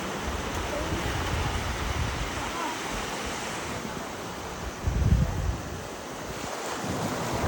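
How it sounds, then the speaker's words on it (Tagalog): Beach surf washes in steadily under heavy wind buffeting the microphone, with a louder wave surge midway through and a continuous roaring wash throughout. "So, we're here at the beach again."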